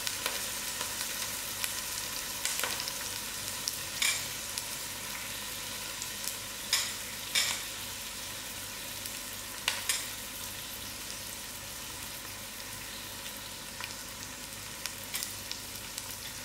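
Masala spices sizzle steadily in a braise of trotters, a continuous bright frying hiss with a few sharp crackles and pops scattered across the stretch, no voices over it.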